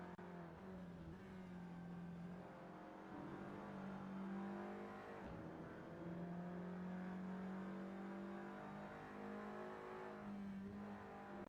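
A Volkswagen Beetle race car in a sim-racing Fun Cup event drones along through the Crowthorne section of the track, its engine holding a steady hum and rising and falling gently in pitch.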